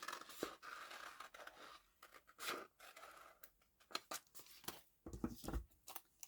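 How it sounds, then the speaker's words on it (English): Scissors snip through a paper transfer sheet during card and journal crafting, making a run of close, crisp cuts and rustles in uneven rhythm with short pauses, and no talking. "so I'm just going to cut that off."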